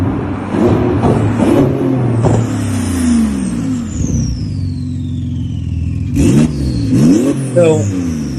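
A Porsche GT2 RS with a freshly built custom exhaust revs hard several times from close range: rising, snarling blips that fall back between pulls, with a final sharp pair of revs near the end.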